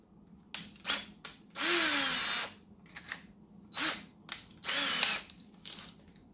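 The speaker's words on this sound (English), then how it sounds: "Take your drill." A power drill bores through a Polaris Ranger 900 XP panel while a Firestorm UTV heater is installed, sounding in several short close bursts, with two longer runs and brief pauses between them.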